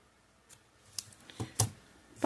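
Scissors cutting fabric while making a crocheted or fabric bath mat: a few quick, sharp snips, close and fairly quiet, spaced irregularly over roughly two seconds.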